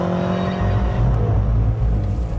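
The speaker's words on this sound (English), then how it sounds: "they've fitted it with a system that pipes a synthesized version of the exhaust note" A BMW M5 with a seven-speed double-clutch gearbox, its exhaust note piped synthetically through the car's stereo, giving a steady loud engine drone with a deep rumble that swells slightly as it runs on.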